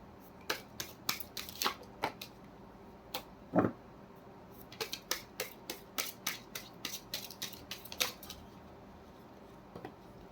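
Slippery tarot cards are handled and shuffled, producing irregular bursts of crisp flicks and slaps, some in quick clusters, recorded close and quiet with no talking.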